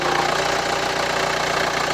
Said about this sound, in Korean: 자 엔진음 한번 들려드릴게요